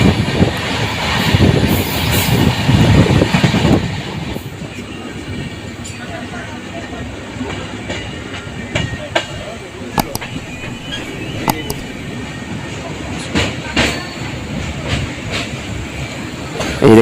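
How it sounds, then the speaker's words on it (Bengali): A passenger train in the Dooars runs at good speed near a bridge, a steady loud rumble with rattling and faint clickety-clack wheel beats, heavier rushing noise in the first few seconds. "এই এখন ট্রেন আমাদের ভালো স্পিডে চলছে"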